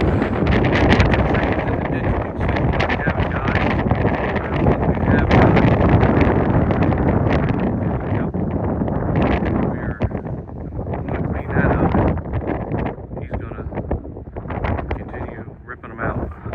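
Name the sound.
wind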